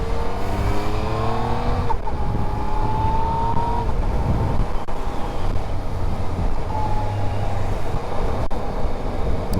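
A 2018 Yamaha MT-09 motorcycle pulls hard at high speed, its loud, steady engine note climbing through rising pitch sweeps and quick shifts, with heavy wind rush throughout.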